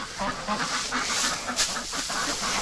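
Ducks quack in a busy, overlapping chorus close by, with a steady rush of wind behind them.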